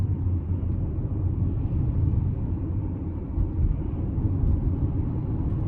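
A 2016 Tesla Model X 90D electric SUV cruising down the road, heard from inside the cabin as a steady, loud low rumble of road and tyre noise with no talking.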